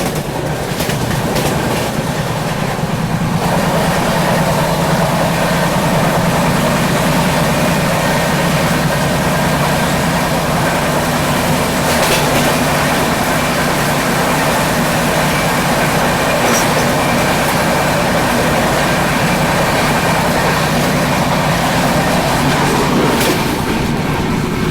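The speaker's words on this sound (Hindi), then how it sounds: "और फाइनली यहाँ पे झेलम एक्सप्रेस को ओवरटेक कर रहे हैं हम" Aboard the Shree Shakti AC Express as it overtakes the Jhelum Express: a loud, continuous rail rumble with clickety-clack and engine drone, punctuated by a few sharp rattles and clanks.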